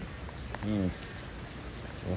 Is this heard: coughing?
no